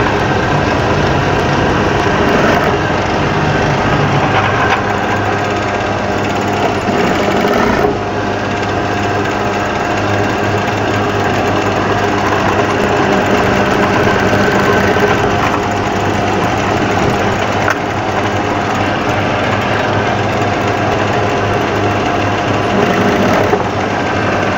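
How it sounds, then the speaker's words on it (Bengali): A sewing machine stitching an apron pocket runs as a steady, close, continuous mechanical whir for a long stretch, with only slight dips where the stitching briefly slows. "এখন দেখুন আমরা কিন্তু পকেট সেলাই দেবো"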